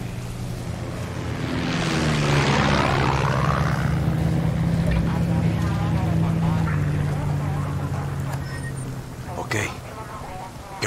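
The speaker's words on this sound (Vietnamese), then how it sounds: "Máy bay này." An aircraft in the video game Far Cry 6 passes by, its engine drone rising, peaking and sweeping downward in pitch over several seconds, with gameplay sounds and talk over it.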